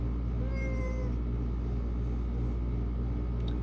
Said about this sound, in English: he's a nice kitty